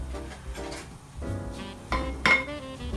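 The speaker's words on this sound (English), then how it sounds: "I'm going to be using an iron spoon instead to stir this." An iron spoon stirring homemade hair growth oil of neem, cloves, chebe and fennel seeds in a pot, giving light metallic clinks and scrapes, with a sharper clink near the end, close and without speech.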